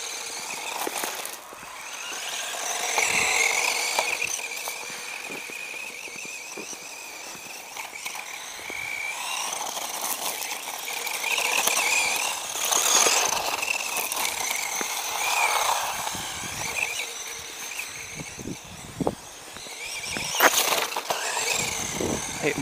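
A cheap 1:12 scale 2WD brushed-motor RC truggy drives flat out, its thin electric whine rising and falling with bursts of speed and rough tyre scuffs, fairly close throughout.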